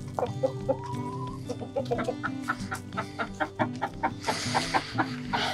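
Chickens and a rooster on a homestead cluck close by in a busy, overlapping run of short clucks and calls, joined near the end by a burst of rustling or flapping.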